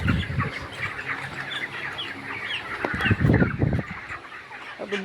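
Chickens on a poultry farm cluck and call in a busy, close chorus, with louder bursts around the middle and a steady background hum underneath.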